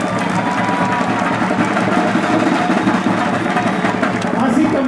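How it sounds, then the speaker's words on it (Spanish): Crowd at an outdoor campaign closing rally in Tepezalá applauds and cheers, a dense, steady wash of clapping and voices with chatter mixed in, loud and continuous for several seconds. "Un fuerte aplauso."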